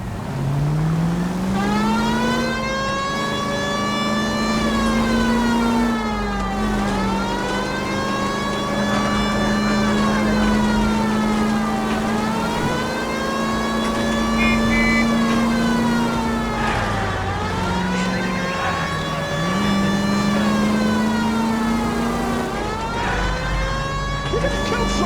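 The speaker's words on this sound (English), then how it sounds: "May as well hit the siren." A police car siren wails loudly and without a break in the video game L.A. Noire, its rising and falling tone cycling over a running engine throughout.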